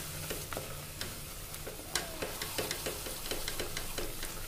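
Chole masala sizzles in oil in a pan while a spoon stirs it, a steady close frying hiss broken by scraping and clicking strokes.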